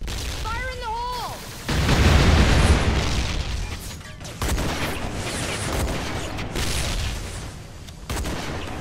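A frag grenade explodes in a first-person shooter video game, heard as loud, heavy booming bursts followed by a sustained rumble of battle noise and repeated blasts.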